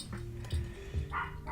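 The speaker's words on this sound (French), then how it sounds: "On entend mes chiens." Dogs bark a few times indoors, somewhat distant and muffled. Two or three short barks are spread across a brief quiet stretch.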